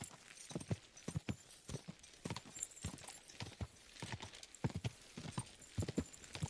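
Hooves clip-clop in a steady galloping rhythm as a horse is ridden in the medieval game Kingdom Come Deliverance 2, close and fairly loud, with a brief whinny and no talk over it.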